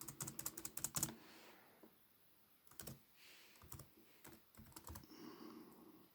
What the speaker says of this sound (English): it's my great typing skills being displayed here